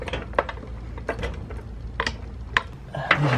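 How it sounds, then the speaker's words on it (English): A floor jack is rolled under a vehicle bumper while a Curt Xtra Duty trailer hitch is fitted. Close, uneven metallic clanks and rattling clicks come in short bursts over several seconds, with no one talking. "Go ahead and roll the floor jack under here for support."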